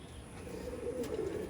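Pigeon cooing from an Andra pigeon, a soft low murmuring coo that swells gradually over a steady background, fairly close and alone with no talk.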